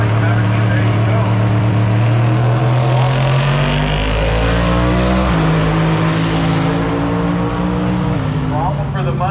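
A Ford Maverick drag racing car with a vinyl top at a drag strip, its engine blasting loud and close as it launches and climbs through gears, with an announcer talking over the roar.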